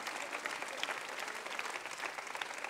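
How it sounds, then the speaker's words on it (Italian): A large outdoor political rally crowd in Rome's Piazza del Popolo applauds, a continuous distant roar of many hands clapping at an even, fairly quiet level. "Chiedo ancora per loro un applauso, e un applauso per gli sfollati, per tutta la città."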